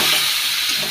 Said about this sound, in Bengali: ভালো করে কষিয়ে নিই মশলাটা।